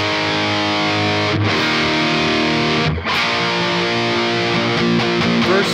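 Distorted electric guitar plays a song, with dense, sustained chords ringing loud and continuous, broken by two brief gaps before the riff carries on alone.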